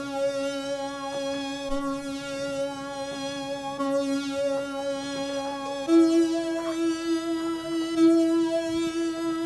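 Sustained synthesizer chord programmed in a DAW for a dance remix, held tones droning steadily and shifting once midway to a new chord, moderately loud with no voices.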